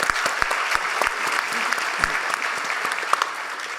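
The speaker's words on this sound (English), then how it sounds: "Yeah, round of applause." Audience applause at a panel discussion event, a dense, even wash of clapping with a few sharp, close claps standing out above the crowd.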